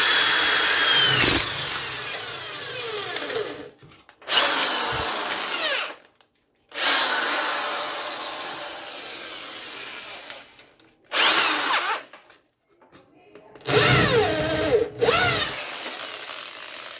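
A power drill bores a small hole for a satellite dish connector, whirring loudly and up close in several bursts of a few seconds each, with short silent pauses between them.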